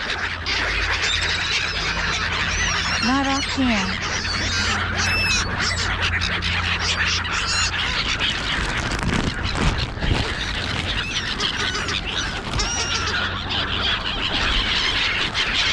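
Gulls, including larger mule gulls, call with loud honking squawks close by, scattered through the scene among ambient outdoor noise and a brief spoken remark.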